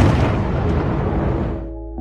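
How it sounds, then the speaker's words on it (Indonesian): A massive explosion from the Venom film destroys a whole area, a loud, rumbling boom with dense low-end debris that rolls on and fades over about two seconds. "memicu ledakan yang menghancurkan seluruh area."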